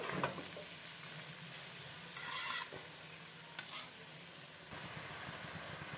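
Chopped spinach is tossed into a pan of vegetables and cooked spices, with a soft continuous sizzle broken by several bursts of spatula scraping and stirring. No one speaks.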